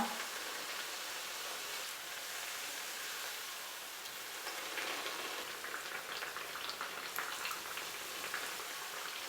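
Kerala pappadavada frying in hot oil on a medium flame, a steady close crackling sizzle with dense popping bubbles that holds throughout, with no voices over it.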